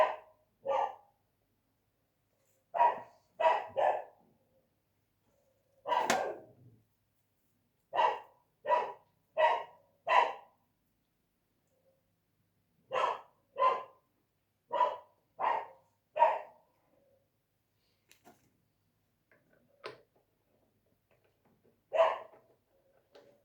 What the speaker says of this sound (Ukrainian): Давно ти не гавкав.